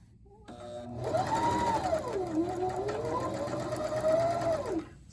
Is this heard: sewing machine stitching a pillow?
yes